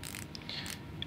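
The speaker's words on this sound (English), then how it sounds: "The ratcheting mechanism feels really strong." A few light, quick clicks from a Smato hex bit ratchet mechanism as it is turned by hand, faint and close against a quiet background.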